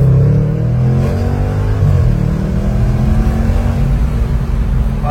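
A new car's engine revs hard and accelerates, a loud, dense, continuous roar whose pitch climbs and surges steadily throughout, with no talking.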